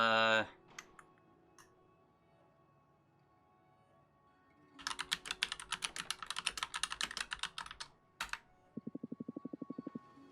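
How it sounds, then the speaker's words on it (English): Bursts of rapid computer-keyboard typing, dense clicks over several seconds with brief pauses, then a short, quicker run of keystrokes, heard alone against quiet room tone. "See that typing?"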